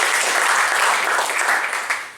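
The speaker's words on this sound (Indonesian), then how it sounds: "Tepuk tangan buat Prudential teman-teman" A short burst of audience applause at a seminar event, brisk and even, fading slightly toward the end.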